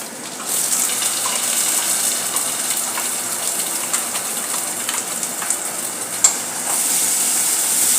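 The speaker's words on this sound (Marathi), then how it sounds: "आणि हे चांगले परतून घेऊया" Ground coconut paste and onion sauté in a pan for a drumstick gravy, making a steady close sizzle with scraping stir sounds and one sharp clack near the end.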